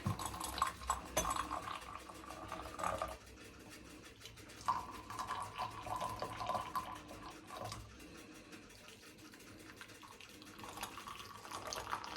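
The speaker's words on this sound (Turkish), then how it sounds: "şu çorbayı ben bir karıştırayım" Soup being stirred in a pot in a home kitchen, with a spoon scraping and clinking against the sides in a steady, close-up rhythm over faint running-water and household background noise.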